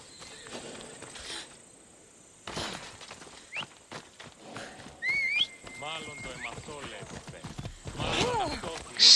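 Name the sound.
horse hooves in the video game Assassin's Creed Odyssey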